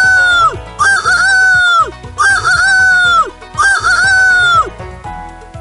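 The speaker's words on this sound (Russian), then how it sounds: "Петух." A cartoonish rooster crows three times in a row, bright and loud, over a bouncy musical backing, in the Russian version of the 1999 PC game Reader Rabbit Playtime for Baby.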